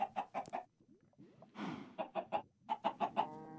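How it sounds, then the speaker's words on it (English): Chickens in cauldrons in Minecraft give a rapid series of short, close clucks in two bursts, with a brief flutter between them. "What's with the chickens in the cauldrons?"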